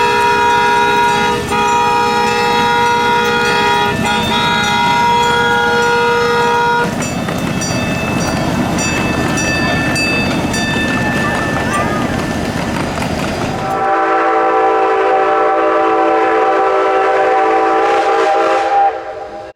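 A Wabash heritage unit diesel locomotive rumbles nearby while its horn sounds in long sustained chords, the pitch and loudness shifting as the train pulls away.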